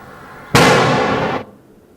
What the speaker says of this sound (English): This is the 2 meters of detonating cord.